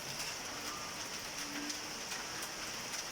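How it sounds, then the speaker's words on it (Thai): Rain pours steadily beside Khlong Saen Saep canal during a fishing outing, a dense, even hiss of drops on surfaces with no pauses. "ฝนก็ตก"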